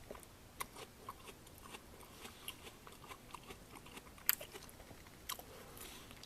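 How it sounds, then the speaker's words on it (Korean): Crisp bites and chewing of a fresh, juicy Mungyeong orchard apple, close and quiet, with a few sharper crunches among soft rhythmic chewing. "사과를 깎아봤고 뭐 한입 먹어보면"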